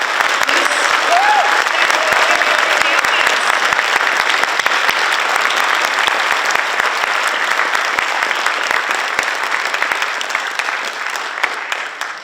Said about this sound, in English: offer a round of applause reflecting both our admiration for your achievements